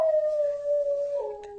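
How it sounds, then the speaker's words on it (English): A lonely dog howls outdoors in one long, sustained, slightly wavering tone that bends lower near its end, clear and fairly close against a quiet background. "that's my dog in the background."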